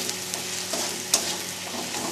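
Taro stolons fry with ground spices in a pan, a continuous close sizzle with a few soft stirring knocks, one slightly sharper than the rest.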